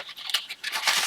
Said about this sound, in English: I'm just going to tear a piece off of this